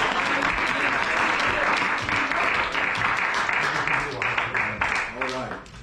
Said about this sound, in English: let's give the Lord another great hand clap of praise in the house.